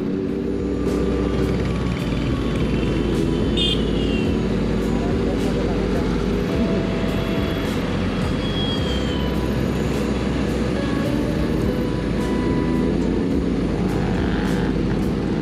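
Superbike engines roar steadily and loudly throughout a group ride on Independence Day, a dense continuous drone with engine tones rising and falling as bikes pass nearby.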